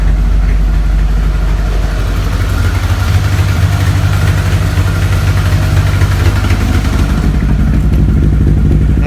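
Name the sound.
1983 VW Rabbit GTI engine running at first fire-up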